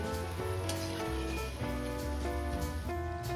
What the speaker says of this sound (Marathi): आता आपली हिरवी मिरची पण छान कडक होईपर्यंत तळून झालेली आहे